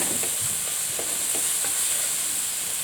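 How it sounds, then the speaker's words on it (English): Minced meat for spaghetti bolognese sizzling and frying steadily in a pan, with faint periodic stirring scrapes under a constant close hiss. "At this point, my meat is cooking really well."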